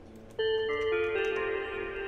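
A synthesized bell melody in FL Studio for a dark R&B beat: clear ringing tones enter suddenly and step through a few sustained pitches, layering and ringing on steadily with no talk.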